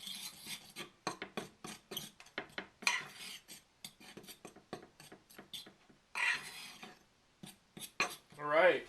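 A utensil stirs Bisquick mix, paprika, salt and pepper together in a dish, giving quick, irregular scraping and clinking strokes that pause now and then, fairly faint and close.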